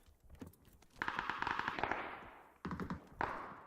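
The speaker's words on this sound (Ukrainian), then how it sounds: "О, ще боти ззаді стріляють." Rapid bursts of gunfire in PUBG, loud automatic volleys crackling in quick succession with short gaps between them.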